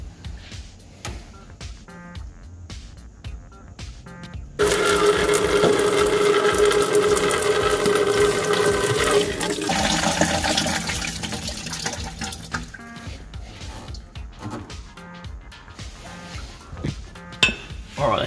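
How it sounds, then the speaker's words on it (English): Coolant drains from a Toyota 1KZ diesel engine, a steady splashing pour of liquid lasting several seconds before tapering off, surrounded by faint clinks of tools and metal. "that should be enough coolant drained out"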